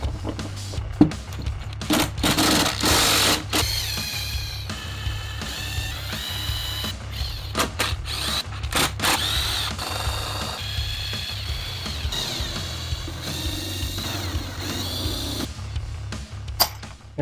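Bolts are removed from a silicone mask mold with a tool, giving intermittent ratcheting and rattling bursts, loud clanks and scraping, close by and irregular, with no talking.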